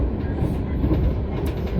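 Kahuripan passenger train riding on rails, heard from inside as a steady, loud low rumble with faint rhythmic wheel clatter, continuous and without speech.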